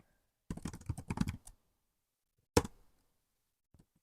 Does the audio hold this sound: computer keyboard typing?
yes